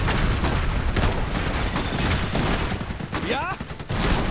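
Dense gunfire and rapid volleys in the strategy game Iron Harvest, loud and continuous with bursts layered over a battle din, with voices talking through it.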